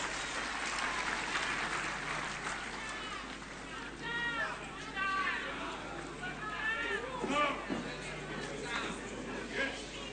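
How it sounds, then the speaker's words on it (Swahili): Audience at the 2025 devolution conference in Homa Bay claps in a sustained, moderately distant round of applause, with scattered chatter and a voice rising over the crowd noise. "Tutugie makofi tafadhali, Mheshimiwa Rais"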